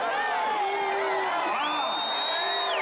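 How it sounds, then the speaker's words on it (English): A large crowd at a Trump rally cheers and whoops, a continuous roar with whistles and shrill rising cries over it, while someone talks close by. "What a crowd."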